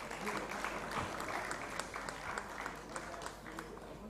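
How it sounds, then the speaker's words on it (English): Steady applause from a conference audience, continuous clapping at moderate volume throughout with some background murmur. "May we please have a round of applause for her welcome."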